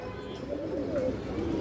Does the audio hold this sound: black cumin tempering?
no